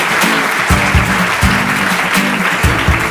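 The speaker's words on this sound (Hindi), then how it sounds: "एक बार जोरदार तालियां लगाएं इनके लिए।" A studio audience on a Hindi quiz show applauds loudly, with a strong clapping wash and low-pitched musical stingers or hums pulsing in short bursts beneath it.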